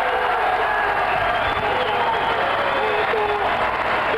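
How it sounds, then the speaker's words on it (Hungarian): A crowd roars without a break at a Natural World's Strongest Man contest as Fekete László makes a 232.5 kg world-record lift. The dense, loud cheering holds steady from start to finish. "A közönség tombol"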